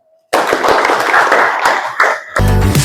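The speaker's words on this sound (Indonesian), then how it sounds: "Tepuk tangan." A classroom group applauds, a loud burst of hand clapping starting abruptly after a brief faint tone and continuing steadily, with a short loud musical sound cutting in near the end.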